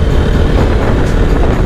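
A metro train rumbles along an elevated track near Baranagar, a low steady roar heard from nearby with some wind buffeting and no talk.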